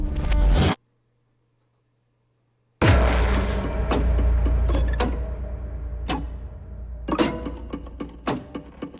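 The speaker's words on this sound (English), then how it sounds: "So this boom here is really nice." A reversed impact boom swells up after a short silence in a cinematic string demo track, then a deep low boom hits and rumbles out, followed by scattered sharp percussive hits and ticks.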